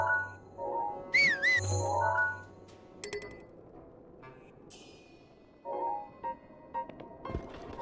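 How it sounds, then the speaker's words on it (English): Link whistles a short wavering tune in Zelda: Breath of the Wild, clear bright notes rising over quiet game ambience, followed by sparse game sound effects and another brief whistled phrase near the end. "did me whistling alert them?"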